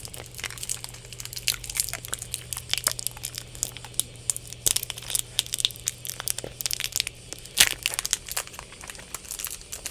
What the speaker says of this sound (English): I've been able to open this one without the use of the scissors.